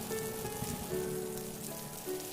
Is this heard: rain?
yes